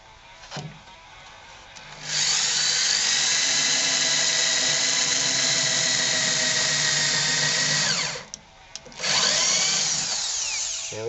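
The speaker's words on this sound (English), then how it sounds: "We're going to do a quick little turn over here to the drill bit." A power drill drives into wood while building a simple firewood rack, whining loudly in a long sustained burst of about six seconds, then a short pause and a second burst starting.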